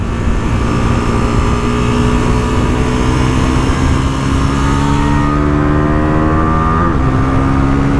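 A 2024 Bajaj Pulsar NS400Z motorcycle engine drones loudly and steadily while riding, then its pitch drops smoothly as the rider downshifts, with wind noise throughout and no talking.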